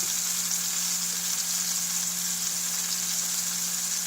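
Burger patties frying with sautéed onions on a hot surface, a loud, continuous close-up sizzle with a steady hum beneath and no voices.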